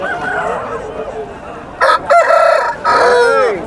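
A rooster at the Thursday chicken market in Galiveedu gives loud, near crows in two bursts, one quickly after the other, with fainter bird calls and crowd murmur underneath.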